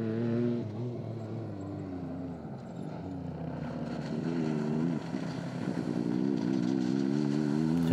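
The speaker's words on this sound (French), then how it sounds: "Et voici la Yamaha de Beck et Kuipers." A Yamaha rally car competing in the Libya Rally 2016 drives past with a steady, loud engine drone and rising and falling revs, like a motor racing by at close range with no voices.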